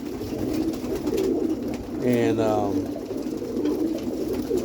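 Roller pigeons in a hen kit cooing nearby, a soft repeated coo over a pigeon loft's ambient murmur, with someone talking over part of it.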